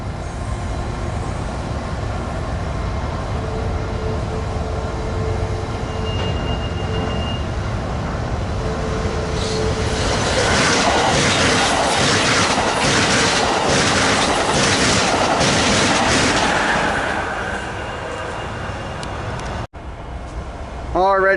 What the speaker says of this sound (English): there goes that eastbound port stacker out of the Long Beach area